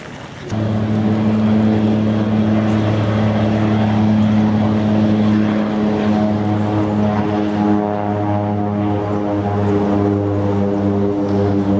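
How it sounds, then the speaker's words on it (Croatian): Seaplane and boat engine traffic on the harbour water beside Stanley Park in Vancouver, with a loud, close, steady propeller drone humming continuously for about twelve seconds. "tu ima svega, brodovi, čamci, hidroavioni, sve na vodu."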